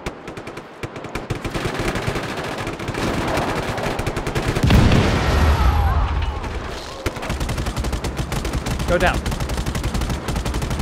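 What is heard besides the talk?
cannon and gunfire in video game Just Cause 3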